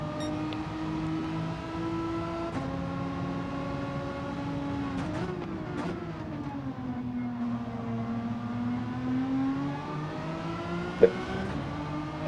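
Racing car in the Gran Turismo 7 video game, a sustained whining engine note that climbs and drops through gear changes, with tonal harmonics shifting steadily and a sharp click near the end.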